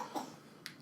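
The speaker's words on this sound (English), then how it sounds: "She's coughing." A brief cough near the start, quiet and close, then a second faint burst of sound shortly after in an otherwise hushed room.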